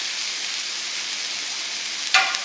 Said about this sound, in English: Starts to sizzle up and sound wonderful.